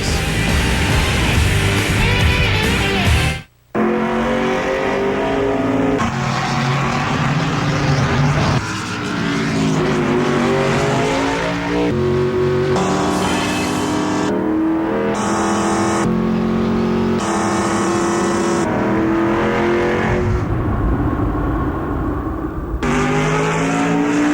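NASCAR stock cars at the 2001 Daytona 500 race, engines droning loudly and continuously with rising and falling pitch sweeps as cars pass and accelerate, one brief sharp cut near the start, no talking.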